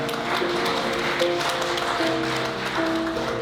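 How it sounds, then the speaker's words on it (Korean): A wedding ceremony crowd claps steadily in a continuous, fairly loud wash of applause after a ring exchange, with soft background music tones running underneath. "여러분들 다시 한번 큰 박수 보내주시길 바랍니다"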